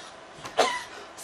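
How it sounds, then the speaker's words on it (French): A woman gives a single short cough over quiet room background, with a faint softer sound just before it. "Vous toussez déjà."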